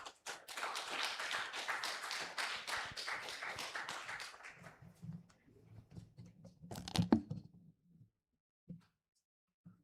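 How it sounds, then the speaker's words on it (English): Audience clapping at an international academic conference and student colloquium, dense and steady for about four seconds, then fading out, leaving a low hum with a few faint knocks. "Please give applause."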